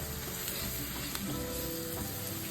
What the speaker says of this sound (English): I'm gonna add my flour and just cook it down to form a roux